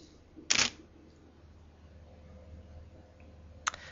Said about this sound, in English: I'm going to press the shutter release on the camera.